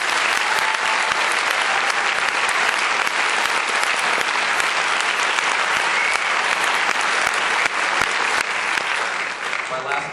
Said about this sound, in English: Give these ladies and gentlemen such a great round of applause.